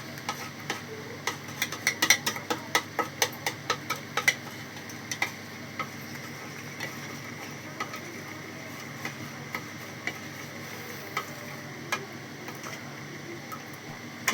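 Spoon stirring yogurt mixed with finely ground spice powder in a bowl, soft repeated ticking clinks against the side at a steady rhythm, quiet and close, with no voices.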